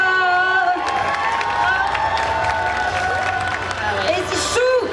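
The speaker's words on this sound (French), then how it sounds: "On l'applaudit très très fort." A crowd at a cosplay parade at a geek convention applauds and cheers loudly, with shouts and whoops over continuous clapping, while voices talk through the noise.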